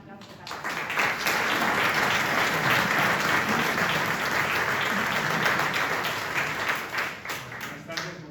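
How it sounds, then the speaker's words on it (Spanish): Orchestra concert audience applause, a dense, sustained burst of many hands clapping that swells quickly, holds steady and loud, then begins to thin toward the end, with a voice briefly heard over it. "Un aplauso para él."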